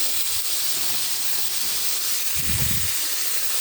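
Bread slices frying on a hot tawa for a Bengali breakfast, a steady bright hiss of sizzling fat running through the whole stretch with a low rumbling thump near the end.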